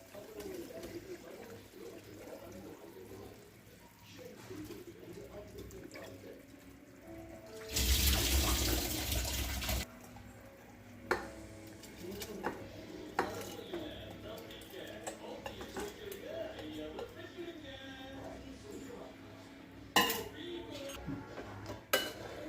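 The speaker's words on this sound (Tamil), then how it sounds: "இப்போ நம்ம அரிசி சேர்த்துக்கலாம்." Soaked, washed rice poured into boiling water in a cooking pot for egg biryani, a loud rushing splash of about two seconds standing out over quiet kitchen clatter and faint background birdsong.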